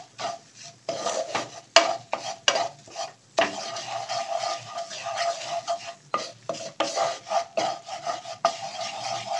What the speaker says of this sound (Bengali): ময়দাটা আর এই মাখনটা আর এই গার্লিক বা রসুনটা ভাজা হচ্ছে